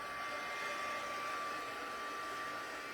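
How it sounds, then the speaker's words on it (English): Heat tool warming up for card making on a Valentine treat holder, giving a steady, even blowing whoosh like a hair dryer, faint and unbroken for a few seconds, with no voices. "Once your heat tool heats up"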